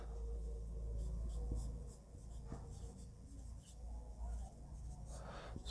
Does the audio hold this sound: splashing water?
no